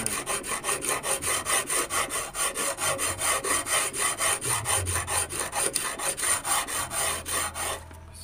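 A file rasps rhythmically back and forth across a square silver chain necklace while it is smoothed and polished, giving regular close strokes about three per second that continue steadily before a brief stop.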